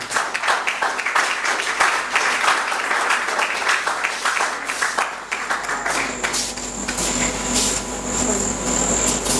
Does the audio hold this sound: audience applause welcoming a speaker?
yes